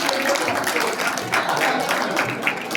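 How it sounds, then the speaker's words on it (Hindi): Audience applause at a Hindu devotional gathering, a moderate wash of clapping from a crowd that stays fairly steady and a little distant for a few seconds. "अब M.K. गौतम जी अगर आए हैं तो जोरदार तालियां तो लगा दो।"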